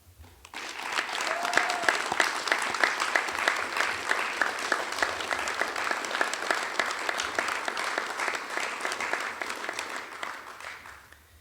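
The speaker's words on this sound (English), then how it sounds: "let's take a moment and give a round of applause to thank the family and friends" Steady applause from a graduation ceremony audience for the graduates' family and friends, a dense, even clatter of many hands that starts abruptly, holds at a constant level and fades near the end with no talk over it.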